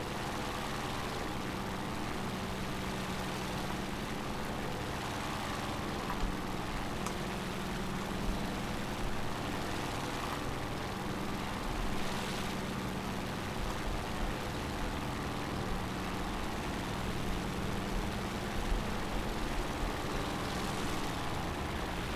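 Early P-51 fighter aircraft in War Thunder drone steadily with a continuous loud piston-engine hum, sometimes swelling slightly, with no talk over it.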